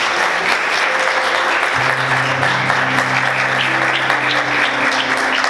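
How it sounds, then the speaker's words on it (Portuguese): A church congregation claps loudly and steadily throughout, a dense wash of hands with faint instrumental tones held underneath and no speech. "Você pode aplaudir Jesus bem forte, glória a Deus"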